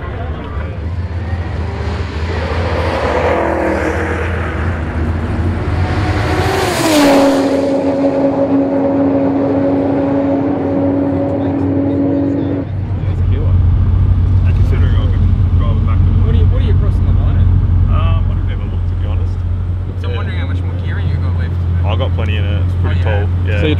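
Ford FG X Falcon street car with a boosted Barra engine lapping a race track, a steady loud engine drone with a pitch shift as it changes gear, close throughout.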